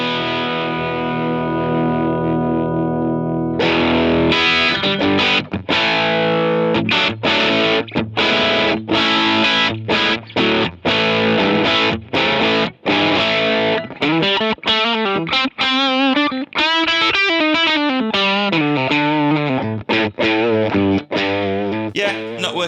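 Electric guitar through a distortion pedal at low drive, with sustained chords followed by choppy strummed chords and bent, wavering single-note lines, loud and close.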